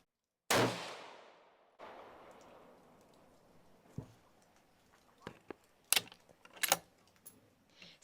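A .223 Remington load fired from a rifle at a 100-yard range for fire-forming to .223 Ackley Improved: one sharp, loud shot with a decaying tail, followed by scattered softer clicks and handling knocks of the gun.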